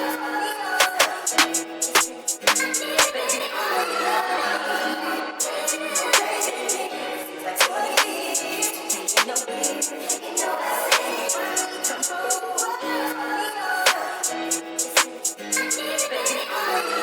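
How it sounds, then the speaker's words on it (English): Simple electronic clap samples from the stock Start multi-kit in FL Studio, sharp bright hits repeating in a steady pattern over a dense, busy beat, with no talking. "I picked like very simple clap sounds out of the Start multi-kit"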